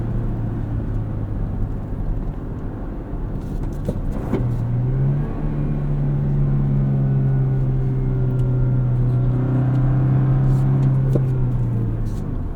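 A 2024 Toyota Tacoma work truck with a six-speed manual drives a back road, its engine droning steadily from inside the cab and climbing through a gear change, with road rumble underneath and no talk.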